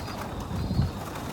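Soft, low pigeon coos rise briefly in the middle as the pigeons eat at night, over a steady background hum with faint rustling.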